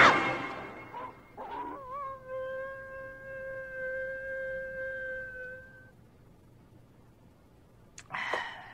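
Dogs in the 1993 action comedy film Fight Back to School 3 give a short yip, then a long, drawn-out whining howl that fades, with a brief rough bark-like burst near the end.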